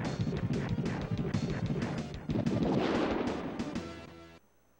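Power sword finisher attack in the SNES game Mighty Morphin Power Rangers, a dense burst of crashing, clanging hits and rumbling blasts that runs loud and busy for several seconds before cutting off abruptly into near silence.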